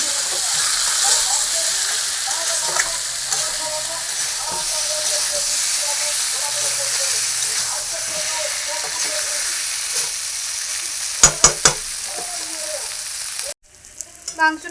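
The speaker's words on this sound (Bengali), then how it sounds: "মাংসটা একটু কষিয়ে নেব আর আলুগুলো দিয়ে দেবো।" Chicken and raw potatoes sauté in a pan for homemade chicken biryani, a steady close sizzle and hiss with a few scraping stirs and clinks near the end.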